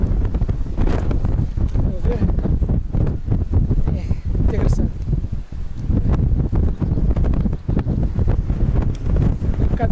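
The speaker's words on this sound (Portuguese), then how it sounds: "Está aqui bastante vento. Deve estar a ouvir bastante ruído em casa." Strong wind buffets the microphone steadily on a seaside walking path in the Azores, a loud continuous rushing roar with gusty surges that runs through the whole stretch, while people talk over it.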